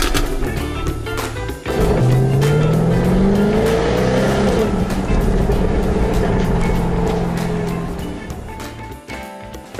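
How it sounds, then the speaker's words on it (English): A 2014 Jaguar F-Type V8 S sports car drives with a loud, continuous engine note rising and falling through the gears, heard close with strong road and tire noise. "Let's drive Jaguar's latest, and definitely most interesting, the 2014 F-Type V8 S"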